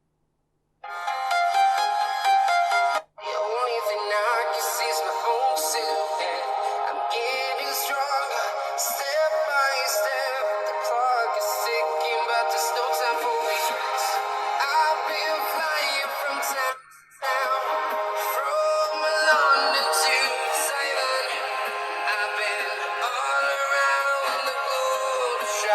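A ringtone plays loudly through the speaker of a Redmi 7A phone, running steadily for about twenty-four seconds with two brief dropouts.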